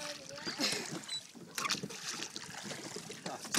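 A rowboat being rowed on water during a summer outing with children, with soft splashing and sloshing of oars mixed with wind buffeting the microphone and nearby voices.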